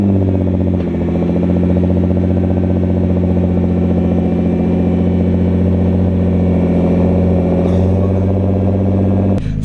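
A car engine idles steadily after a cold start at 6 AM, a loud, close, low rumble with a constant tone and a brief rev near the end.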